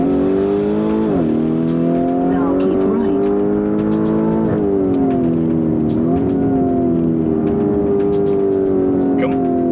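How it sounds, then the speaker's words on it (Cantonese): A loud, deep Lamborghini Urus SUV engine roars continuously in Sport and Corsa modes, its pitch dipping and climbing with several revs, exhaust rumbling throughout while someone talks over it. "咁已經引擎聲已經大咗"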